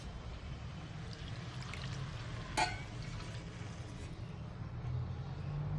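Water is poured into broken wheat (dalia) for pulao, a steady close rushing pour with one brief clink partway through, heard alone without talk.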